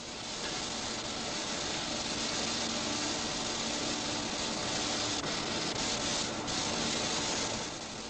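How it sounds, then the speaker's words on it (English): Steady broadband rubbing and hissing from hand-sanding the surface of a 1959 MK1 Mini car body ready for paint on a production line, continuous and close with no talk. "many hands must rub the surface smooth for paint"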